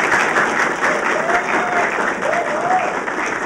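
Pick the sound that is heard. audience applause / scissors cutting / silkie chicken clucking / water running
audience applause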